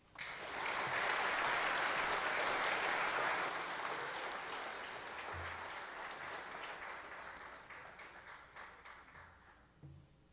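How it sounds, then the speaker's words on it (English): An audience at an FFA banquet breaks into applause, a dense wash of clapping that swells quickly and then slowly tapers off, heard from a distance. "a round of applause"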